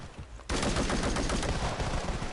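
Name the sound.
gunfire from weapon in a video game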